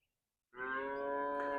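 A single calf or cow lets out a long, steady moo after a moment of quiet, moderately close and clear.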